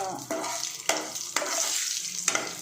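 Whole spices such as cloves, cinnamon, bay leaf and shahjeera fry in hot oil for cooker biryani, giving a close, steady crackling sizzle broken by a few stirring scrapes, with no talking.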